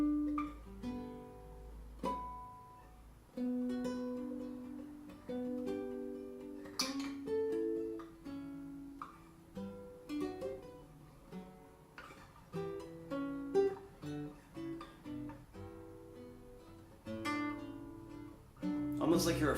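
An instrument is played softly but weakly and timidly, a continuous run of gentle, hesitant notes lasting about twenty seconds with no talking.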